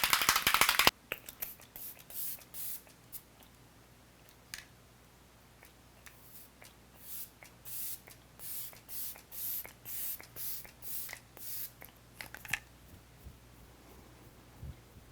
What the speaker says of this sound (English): I'm going to set using the, what is this called? Stay All Night Microfine Setting Mist from e.l.f.